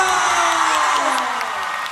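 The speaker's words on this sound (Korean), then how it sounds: "박수 한번 주세요." Loud, sustained cheering and whooping from a fan meeting audience in Singapore, a continuous wash of crowd noise with no pauses.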